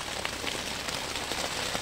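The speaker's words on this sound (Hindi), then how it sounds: "बारिश आ गया, लॉक हो रहा है" Heavy rain pours steadily at a riverside campsite on the Barak River, a dense, even hiss of drops hitting surfaces with no voices.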